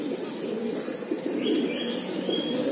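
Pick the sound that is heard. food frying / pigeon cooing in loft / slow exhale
pigeon cooing in loft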